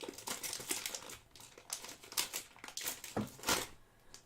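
Someone tears open a foil trading card pack up close, with a quiet stretch of crinkling, tearing and rustling that builds to a sharper rip near the end.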